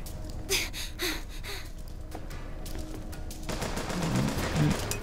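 Turret gunfire in the video game BioShock Infinite, a few rapid, sharp bursts of shots, fairly faint and distant-sounding, with a denser patch of fire near the end.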